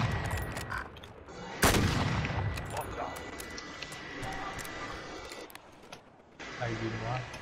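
Gunfire in Call of Duty's Plunder mode: one loud, sharp shot rings out close by, followed by scattered fainter shots and explosions under excited talking players.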